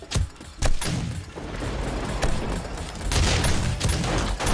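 During a horde night in the video game 7 Days to Die, turrets fire a dense, rapid rattle of gunfire. The shots are loud and continuous, with sharp bursts and no talking.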